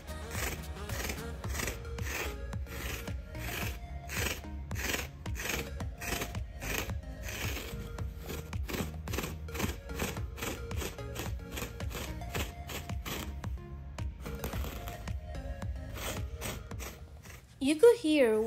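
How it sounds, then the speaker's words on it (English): An Uproot Clean pet hair remover scrapes malamute dog hair off furniture fabric in quick, rhythmic raspy strokes, a close repeated scratching that runs steadily for many seconds. "You could hear when it grabs the fabric, it gives you that weird sensation that it bothers you in the teeth"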